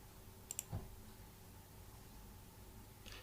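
A couple of faint, sharp computer mouse clicks near the start, followed by a low thump, then only quiet room hiss.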